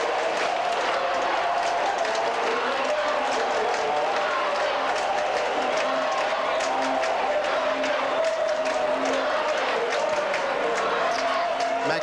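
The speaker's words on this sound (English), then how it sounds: "And just listen to the crowd." Large football crowd roaring and cheering after a grand final win between Glenelg and North Adelaide, a steady, dense wash of voices filling the stadium at constant loudness for the whole stretch, with talk mixed in.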